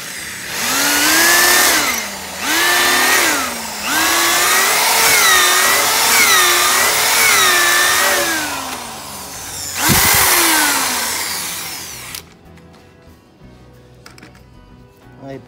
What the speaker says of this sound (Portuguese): Agora vamos furar aqui.